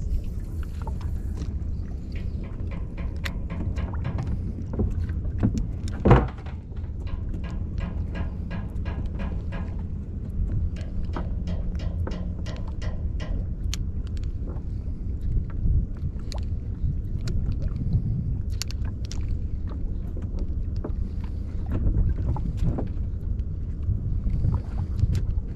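Small fishing boat running at sea on a bottom-drift fishing trip, a steady low engine rumble with wind buffeting and scattered water slaps and knocks, continuous and close, with no voices.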